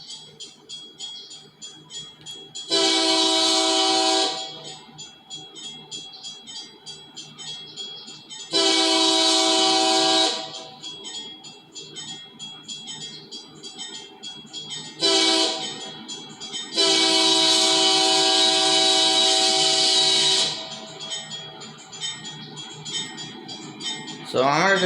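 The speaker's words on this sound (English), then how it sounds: "let's watch the train comes by." A Union Pacific train sounds its horn at a grade crossing in four loud blasts, long, long, short, then long. A steady rumble of the passing train runs underneath throughout.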